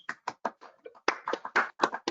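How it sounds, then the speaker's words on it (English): Participants in an online meeting clap after a presentation on overhead railway electrification, producing a string of separate, compressed, uneven claps and taps in quick succession rather than a continuous wash. "give John a well-deserved round of applause for that presentation"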